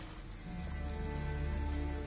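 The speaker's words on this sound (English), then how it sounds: "This little girl Alice is cold as fuck in the rain." Steady soft rain patter with a low background hum, continuous and even, no voices, in the video game Detroit: Become Human.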